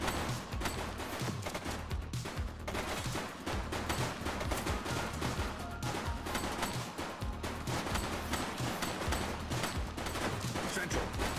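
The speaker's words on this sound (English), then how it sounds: "He's shooting!" A police simulator video game firefight with dense, continuous volleys of rapid gunfire throughout, loud and busy, with faint voices mixed in.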